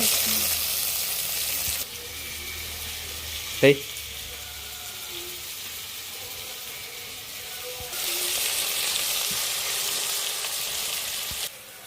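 Masala and chicken pieces frying in a pan, a steady close sizzle with a brief clatter midway and a quieter stretch between louder bursts of frying.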